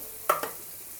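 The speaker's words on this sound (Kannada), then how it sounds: "ಇವಾಗ ಇದು ಕೂಡ ನೀಟಾಗಿ ಫ್ರೈ ಆಗ್ತಾ ಇದೆ" A spatula stirs a potato and fenugreek leaf filling in a hot pan, producing one brief scraping sizzle with a second softer scrape right after, over a quiet background.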